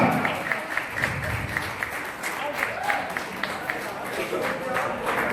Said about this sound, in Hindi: आप लोग जगह लेके जोरदार तालियों से स्वागत होना चाहिए अध्यक्ष जी का